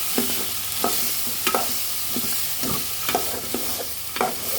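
Ghugni is stir-fried with garam masala, with a spatula scraping the pan in regular strokes about every half second over a constant close sizzle.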